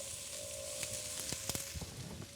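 Potatoes, carrots and onions fry in oil in a pan, a soft, fairly faint sizzle with scattered pops and scrapes over a low steady hum, with no voices.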